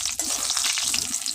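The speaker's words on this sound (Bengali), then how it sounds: "আমি এখন এই যে চাল কুমড়োর বড়ি দিয়ে দিলাম" Ash gourd lentil dumplings (bori) fry in hot oil with a dense, steady sizzle and crackle, close and continuous, no voices over it.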